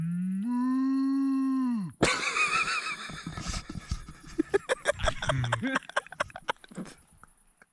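A person imitates a cow with a long, steady, drawn-out moo, standing alone at first, followed by clattering and knocking sounds mixed with talk in a field during a bike trip.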